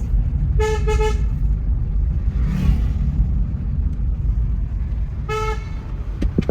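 A car horn sounding on a winding hill road, with two short tonal honks near the start and another near the end over the steady close rumble of the vehicle's engine and road noise.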